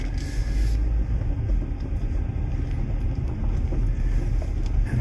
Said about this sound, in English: go for a quick drive